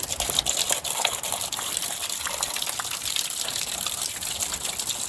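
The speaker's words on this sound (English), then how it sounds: "I take the end off it and I blow all the water out of the hose" Steady loud rush of water gushing from the open end of a garden hose as it is blown clear, a continuous hissing spray with no pauses and no voices.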